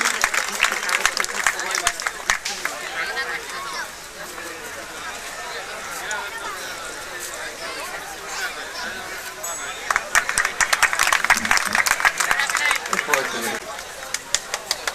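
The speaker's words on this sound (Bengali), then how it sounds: "শুধু আমরা করতালি দিয়ে এদেরকে অভিনন্দিত করি" Audience applause for students at a school award ceremony rises in dense clapping bursts at the start and again later, with speech and crowd murmur in between.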